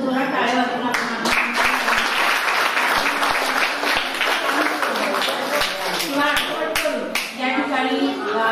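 A large audience gives loud, sustained applause, dense clapping that carries steadily throughout, at a Buddhist lecture gathering in a vihara.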